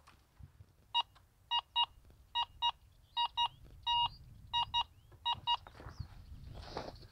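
A Minelab Go Find 11 metal detector sounds a run of short electronic beeps, mostly in quick pairs, about a dozen tones over several seconds. They are clear and close over faint background noise, with no talk.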